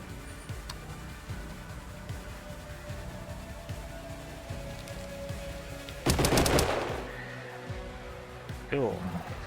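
Weapon fire in the post-Earth RPG Colony Ship, a loud burst of shots mid-clip over steady game sounds, with a player talking throughout.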